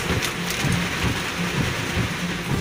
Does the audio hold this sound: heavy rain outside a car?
yes